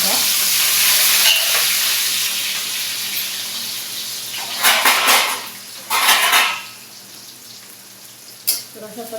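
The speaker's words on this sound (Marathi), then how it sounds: "तर मस्त कांदा तेलात परतून घ्यायचा" Chopped onion and spring onion sauté in hot oil with a soft sizzle, while utensils clatter against the pan in a few sharp bursts near the mic and no one speaks.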